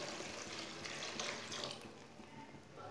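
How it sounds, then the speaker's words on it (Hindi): Half a glass of water poured into a pan of spinach frying over high heat, a steady close splashing and hissing pour lasting nearly three seconds, fading slightly toward the end with no talking. "आधा ग्लास पानी डाल लेंगे"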